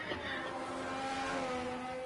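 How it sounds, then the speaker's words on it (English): A Ferrari Formula 1 car in the F1 22 video game on the Jeddah circuit, its engine a steady faint mechanical drone with a low burbling tone, holding even throughout. "Listen to that Ferrari engine. Burbles away."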